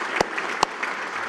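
Applause at a university graduation ceremony for the graduates' spouses and significant others, a soft background wash of crowd clapping with two sharper nearby claps.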